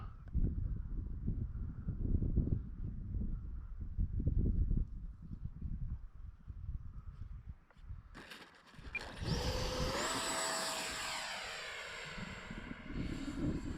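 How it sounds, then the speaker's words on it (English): A small electric ducted-fan model jet flies past. A rough, gusty rumble gives way to a loud, high fan whine that rises and then glides down in pitch, with no talk. "What a great little jet this is."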